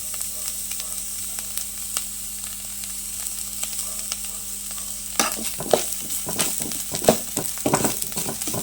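Shallots, cumin, pepper and green chilies drop into coconut roasting in a pan for Kerala-style koottu curry, bringing a steady low sizzle and then louder stirring scrapes and crackles in the second half.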